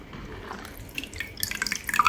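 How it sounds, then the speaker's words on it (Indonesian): Water trickles and splashes into a container to soak the roots of a moth orchid, starting as a soft pour and building into brighter drips and splashes near the end. "Tuh, aku isi airnya."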